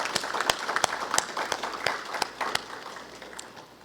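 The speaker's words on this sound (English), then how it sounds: "I ask you to join me in giving him a warm round of applause" Audience applause at a book launch, a loose scatter of individual claps fairly close, thinning and fading toward the end.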